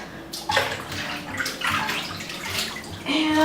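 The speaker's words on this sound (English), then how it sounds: "I'm going to scoop up some water" Water scooped and poured into a silicone mermaid tail in a bathtub, a continuous close splash and slosh with several surges.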